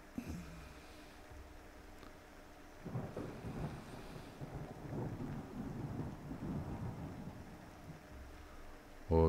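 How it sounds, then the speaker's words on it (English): Rain falls inside a building in a video game, a steady rushing patter with low rumbles that swells midway and holds at moderate loudness, heard alone without voices. "Raining inside the building."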